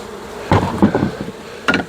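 Honeybees buzzing close by during a kitchen hive inspection and varroa check, with a few short bursts of buzzing and handling knocks rising over a low background hum.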